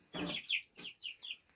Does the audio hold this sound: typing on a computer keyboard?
no